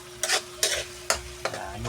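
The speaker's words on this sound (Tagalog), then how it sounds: "Haluin hanggang sa lumambot ang kamatis." Four bursts of a spoon stirring and pressing softened tomatoes in a frying pan for chicken liver afritada, each scrape separated by a gentle steady sizzle.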